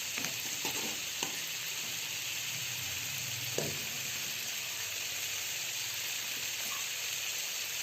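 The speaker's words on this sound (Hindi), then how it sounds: "आप देख सकते हैं लजीज सी गोभी तैयार है, बस थोड़ा सा और इसे भूनने की ज़रूरत है।" Cauliflower and meat curry (gobi gosht) frying in a pan, a steady soft sizzle and hiss with occasional light scrapes and knocks of stirring, fairly quiet and close, no talk.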